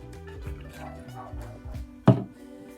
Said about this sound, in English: if you hear my dogs barking in the background of this video